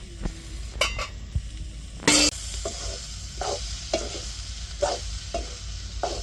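Okra frying in a pan on a home stove and being stirred, with a steady sizzle broken by repeated scraping stirs and one loud clatter of metal, close-up with no talk.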